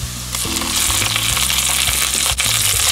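Ginger garlic paste sautéing with onions that are turning golden brown in a pan for whole tilapia fish biryani, giving a loud, steady sizzle and frying crackle with occasional stirring scrapes throughout, no talking.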